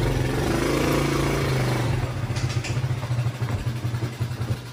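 A Yamaha Champ 4 Moto motorcycle engine runs steadily while riding, a constant mid-pitched drone that grows slightly choppier and pulsing toward the end, with no talking.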